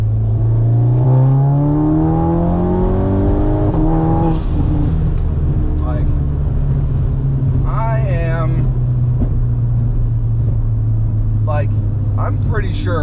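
A tuned MK8 VW Golf R / 8Y Audi S3 with a Stage 1 tune on 93 octane accelerates hard in third gear, its engine note rising steadily and loudly close by. Faint voices come in near the end.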